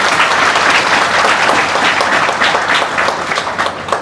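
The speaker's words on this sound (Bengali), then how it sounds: "অভিজিতের বাবা উনি দাঁড়িয়ে আছে তার জন্য সবাই একটা অন্তত হাততালি দেয়" An audience claps for Abhijit's father as he stands up at a stage event, dense sustained applause filling the hall from start to finish and tapering slightly near the end.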